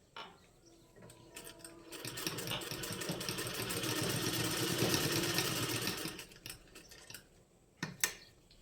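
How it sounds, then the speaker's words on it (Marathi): A sewing machine stitches along a pant-bottom design traced from cut canvas paper, running in one steady, fairly loud burst lasting several seconds. It starts and stops with a few clicks and handling knocks, and no one speaks. "जे आपण कॅनव्हास पेपरचे कटिंग केलेले आहेत त्याच्यावरून आपण स्टिच करत जाणार आहे।"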